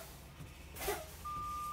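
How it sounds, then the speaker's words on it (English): A truck's low air pressure warning buzzer switches on partway through and holds constant, following a brief hiss of air, with a low idling hum beneath. "my warning light and buzzer came on"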